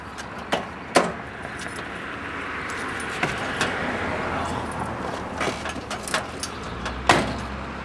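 Someone climbs into a small pickup truck: keys jangle and sharp clicks and thumps ring out from the door and cab over a steady low background hiss.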